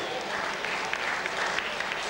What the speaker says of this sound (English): Come on, give Angie a big round of applause.